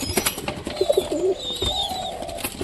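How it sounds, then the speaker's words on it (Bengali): Soft, low pigeon coos repeat a few times amid a busy background of higher bird chirps, fairly close and moderately loud. "এই কৌতরটা"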